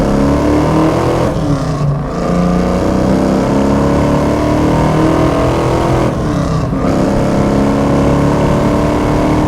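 A 1973 Dodge Challenger with an H-code 340 V8, fuel injection and a five-speed manual drives along. Its steady, loud engine drone is heard from inside the car, with two brief dips that sound like gear changes.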